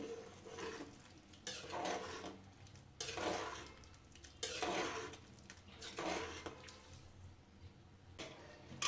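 Rice and soya chunks pulav being stirred in a small pressure cooker pot, a series of separate scraping, clattering strokes of a spoon against metal, close and fairly quiet, with pauses between them.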